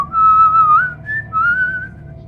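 A clear, close human whistle carries a smooth melodic line in a few sustained, gliding phrases with short breaks between them.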